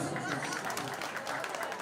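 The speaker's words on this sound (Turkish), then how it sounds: "Ama bu akşam alkış olsun sadece" Applause from a wedding audience at a live concert, a dense, steady wash of clapping that runs the whole time, with music or voices faintly audible underneath.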